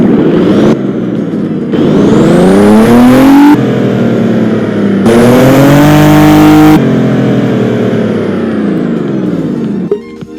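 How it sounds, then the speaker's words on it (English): Turbocharged 3-liter Audi V6 in Roblox Driving Empire starts up and revs repeatedly, loud rising and falling engine tones with turbo spool, several sharp rev bursts cutting in and out, close and alone. "I'll make you guys hear the startup and the rev"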